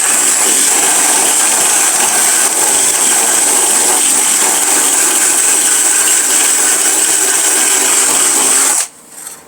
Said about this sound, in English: yet again you just get in there and you just sand